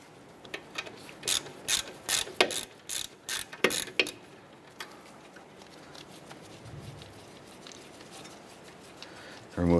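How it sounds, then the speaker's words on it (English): A ratchet with a 12mm socket turns out the brake flex line bracket bolt on a 2008-2012 Honda Accord, giving several close, loud bursts of rapid clicking in the first few seconds, then quiet with faint handling noise. "Using a 12mm socket, go ahead and remove our flex line bolt for the bracket."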